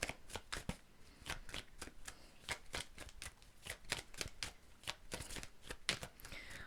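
Tarot cards being shuffled by hand during a reading, quiet crisp riffling and slapping bursts repeating in an irregular rhythm, close and soft with no talk.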